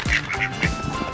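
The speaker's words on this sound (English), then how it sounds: "Crazy duck." A farm duck quacks several times in quick succession around a barn on a rainy morning, loud and close, with no talking.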